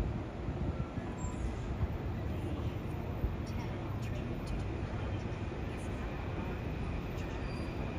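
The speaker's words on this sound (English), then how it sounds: "Finally, finally an M9 that is stopping here." A Long Island Rail Road M9 electric train stopping at Forest Hills station gives a steady, moderately distant rumble and hum with faint squeals throughout.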